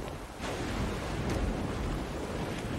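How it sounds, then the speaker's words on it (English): Steady, dense pouring rain in No One Lives Under the Lighthouse, a loud continuous wash with a couple of faint cracks of thunder rising briefly out of the downpour. "It's pouring down."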